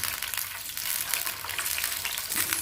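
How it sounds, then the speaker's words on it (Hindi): Red chillies and cumin seeds fry in hot oil for a daal tadka, a dense, steady sizzle with a constant bright crackle, close and fairly loud, briefly scraped by stirring near the end. "अब मैं इसमें डालूँगी 3 से 4 लाल मोटी मिर्ची और 1 चम्मच जीरा। इसको हम भून लेंगे।"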